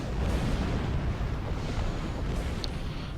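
A starship blows up during a Borg cube battle in the Star Trek Online video game, a loud, continuous rumbling roar of explosion and debris that fills the whole moment without letting up.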